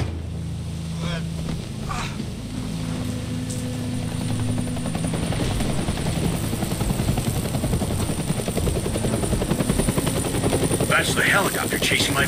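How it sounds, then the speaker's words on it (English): Helicopter chasing characters in the video game DeadLight, a steady rotor and engine drone that grows louder and denser after the opening seconds, with wind-like noise layered on top. "That's the helicopter chasing my friends."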